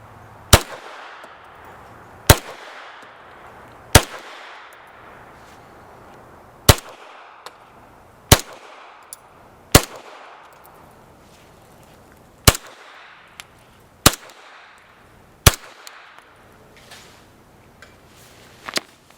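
Suppressed 9mm pistol shots, 115, 145 and 165 grain rounds, fire as nine sharp, loud reports spaced a second or two apart, each ending in a short outdoor echo.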